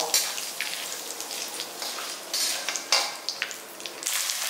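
Urad dal, whole black peppercorns and curry leaves crackle and splutter in hot oil in a pan, a dense close sizzle with sharper bursts of popping scattered throughout and no voices.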